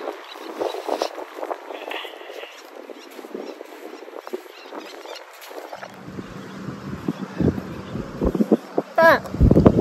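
Gusty wind buffets the microphone at the seashore, uneven bursts of rough noise in front, with people talking close by and clattering sounds mixed in.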